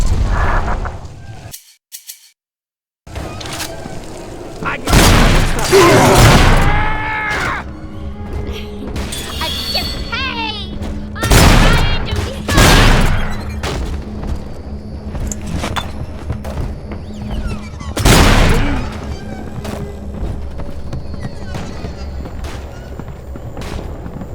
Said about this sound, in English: Mother's people are starting to detonate the charges.